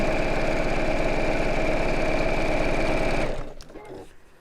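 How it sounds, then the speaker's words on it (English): A sewing machine stitches straight lines at a steady, rapid needle rhythm, close and even, then stops abruptly just past three seconds and leaves a few faint clicks. "You didn't think you'd be sitting here for half an hour watching me sew straight lines, did you?"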